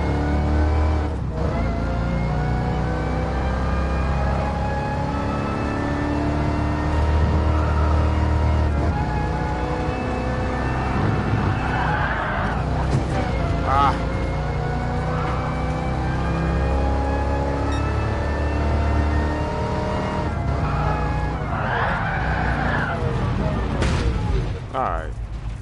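Continuous engine drone from a car driven in GT Sport in VR, a steady loud hum with rising and falling revs throughout, brief sharper bursts near the middle, and faint talk over it.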